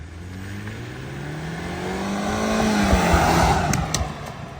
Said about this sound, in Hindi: इसकी जो आवाज़ है ना, जैसा पेट्रोल इंजन है ना, उस तरीके की इसके अंदर आवाज़ है, वो स्पोर्ट्स कार वाली आवाज़ आती है।